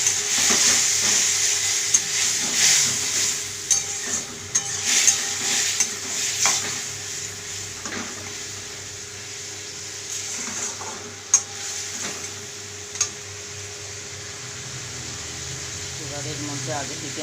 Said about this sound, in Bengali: মশলাটাকে ভালো করে আরেকটু কষে নেব।